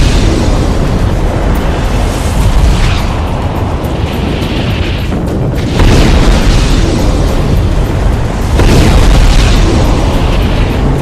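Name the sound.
nuclear explosion sound effect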